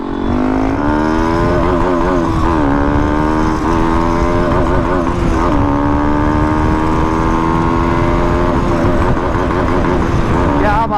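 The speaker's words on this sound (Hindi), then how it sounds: "भाई ने ना इसमें ना DB किलर लगाया हुआ है, तो ज़्यादा लाउड नहीं है ये" A Kawasaki ZX-10R sport motorcycle with a dB killer fitted in its exhaust roars steadily while riding, its loud, close engine drone rising and dipping in pitch as the revs change through the ride.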